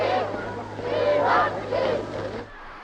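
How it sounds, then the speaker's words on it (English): A huge crowd cheering outside Buckingham Palace on VE Day, a dense roar of voices with swelling shouts and a constant low hum beneath, loud and sustained before fading abruptly. "Outside Buckingham Palace, the crowds cheered themselves hoarse."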